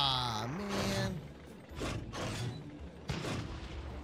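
A Nerf tank in a modded Minecraft game fires a series of mechanical thumps and clunks, about three spaced bursts with rattling and creaking, loud and close after a brief tonal sound at the start.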